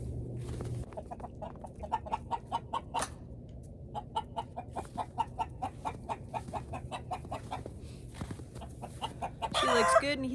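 Chickens cluck repeatedly near a farm coop in a busy, irregular series of short calls, moderately close, with a brief louder burst at the end.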